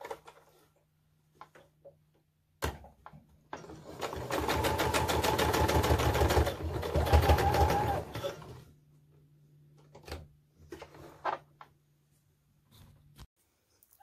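A sewing machine stitches a 2.5-inch strip onto the bottom of a Christmas present quilt block, one close burst of fast, rhythmic stitching lasting several seconds, framed by soft handling clicks and fabric shuffling.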